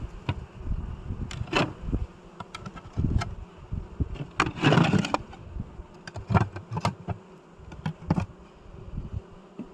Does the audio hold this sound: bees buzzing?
yes